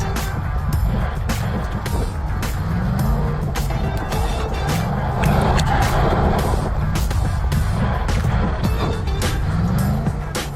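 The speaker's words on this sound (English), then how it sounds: "Oh, lots of tire spin." A muscle truck accelerates hard with tire spin, a loud continuous engine roar, close and steady for about ten seconds with harsh broadband noise and no talk.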